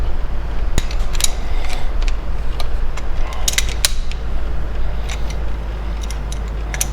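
A wrench tightens an aluminium AN fuel fitting back up on a 1999 Mitsubishi Eclipse, giving sharp metallic clicks and ratchet-like creaks over a steady low hum, close by and with no talk.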